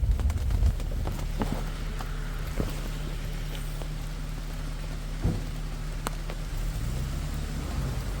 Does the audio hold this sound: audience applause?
no